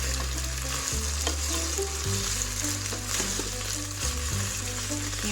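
Sopa de fideo fries and gets stirred in a pan, a steady loud sizzle with scraping stir strokes over a low background hum, no talk.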